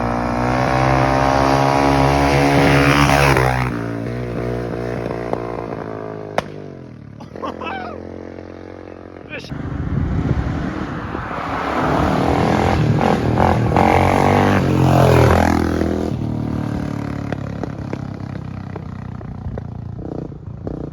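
A 2000 Honda XR600R dirt bike ridden in second gear, its loud engine rising and falling in long surges with a brief gap partway, heard up close and running continuously.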